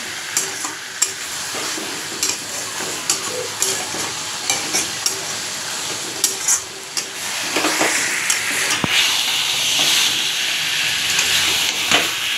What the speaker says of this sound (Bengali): মাছগুলো দিয়ে মশলাটাকে আরও ভালো করে আমি কষিয়ে নিলাম।